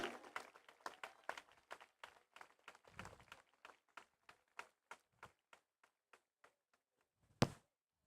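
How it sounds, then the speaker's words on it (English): A small audience at an award ceremony claps for a child honoured with a special jury mention. The faint claps start dense, then thin into sparse single claps, with one sharp clap near the end. "Let's give a round of applause for Abir"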